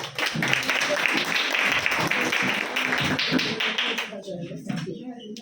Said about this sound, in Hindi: क्यों ना ताली देते इसके लिए